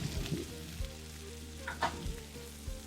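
Vegan vegetable shawarma wraps fry in a pan, giving a steady close sizzle with occasional crackles and low thumps from handling, and no talking.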